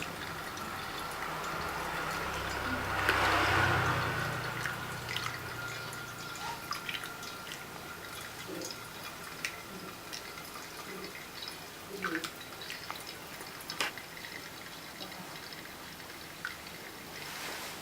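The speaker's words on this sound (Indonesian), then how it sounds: "Nah, kita tuang lagi menjadi 300 gram." Hot water is poured over 20 grams of ground coffee toward 300 grams total, a brief close pour early on, then faint steady dripping and trickling as the brew filters through.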